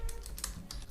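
Code is typed on a computer keyboard, a quick close burst of several light key clicks in a steady rhythm over a faint background hum, with no talking.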